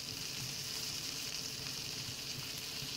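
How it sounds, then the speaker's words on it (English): Food frying and sizzling while cooking in the Palworld video game, a steady hissing crackle that holds evenly throughout at moderate loudness with no talk over it. "Frying up some tasty treats."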